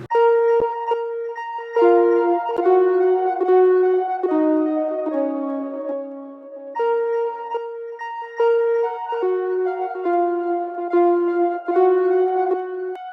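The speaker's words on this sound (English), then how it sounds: "It was an arpeggiated sound and it sounds like this by itself." An analog brass synth plays an arpeggiated counter melody alone, notes stepping up and down in a steady, bright pattern with a brief pause midway.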